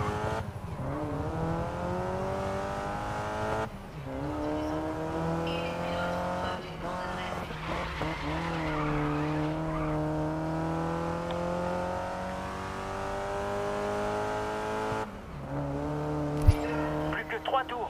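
Open-wheel race cars in GRID Legends roar around the track, engine pitch climbing and dropping through repeated shifts with occasional tire squeal, loud and continuous while someone talks over it.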